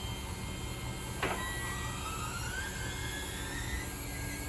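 An electric vehicle lift folds up with a steady mechanical whine from a motor, a sharp click near the start, and a rising hum that continues evenly and moderately close, with no voices.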